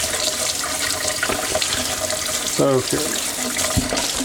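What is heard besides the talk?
sink draining water while cleaning a fish tank filter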